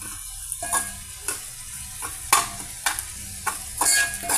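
Ivy gourd (dondakaya) fries deep in oil inside a container, giving a continuous close sizzle. A spoon scrapes and clinks against the container repeatedly at uneven intervals.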